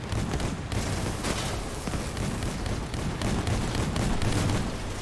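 Shotgun fire in Hammerfall's Tusk cabin game, a dense rapid barrage of blasts and booms in a loud continuous battle mix, with no voices.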